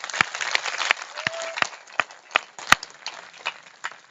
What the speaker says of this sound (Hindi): एक बार आप लोग अपनी संख्या के लिए जोरदार तालियां बजा दीजिए।